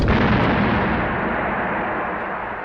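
A loud explosion in the James Bond film Live and Let Die, a sudden blast that rolls into a long rumbling roar and slowly fades.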